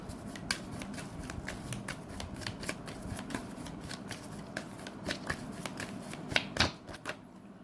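Tarot cards are shuffled by hand in a quiet room, giving a close, steady run of crisp riffling snaps with no voice over them.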